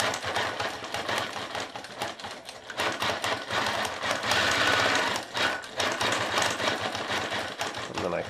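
A sewing machine with stitch regulation stitches continuously while quilting, a loud, close, steady rapid whirring that briefly dips and resumes.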